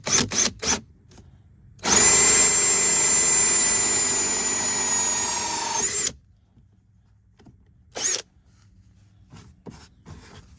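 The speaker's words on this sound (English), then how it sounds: "when you drill this hole, the fitment is gonna be hella tight" A power drill whines at high speed for about four seconds, boring a hole to fit a puddle light on a Nissan 370Z, steady and loud, between a few short clicks and a brief burst later on.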